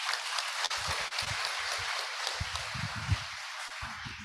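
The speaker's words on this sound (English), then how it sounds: "Big applause." Scattered audience applause at a nursing-department guest lecture: a light, steady patter of clapping from a modest crowd, heard alone for a few seconds.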